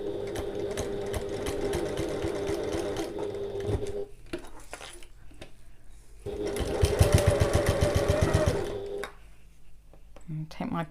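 A sewing machine runs in two long bursts of rapid stitching along the edges of a zip bridge for a bag, pausing briefly between runs, with a voice speaking over the motor.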